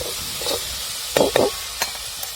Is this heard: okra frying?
yes